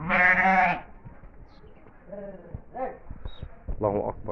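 Sheep from a small flock, four ewes with a breeding ram, in Assiut, Egypt, let out one loud, close, drawn-out bleat, followed by people talking.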